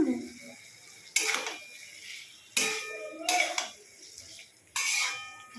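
Metal utensil scraping and clattering in a pan while stirring a potato and pointed gourd curry, in about four loud bursts separated by quieter pauses, close by.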